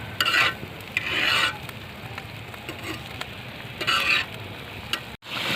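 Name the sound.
stirring chicken curry cooking over a wood fire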